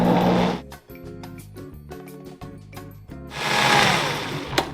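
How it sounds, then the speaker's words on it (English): A Vitamix blender mixes homemade salsa, its motor whirring loudly at the start, dropping to a lower, chopping, uneven churn in the middle, then roaring up again near the end. "We're gonna put this in the Vitamix. It'll take about 20 seconds."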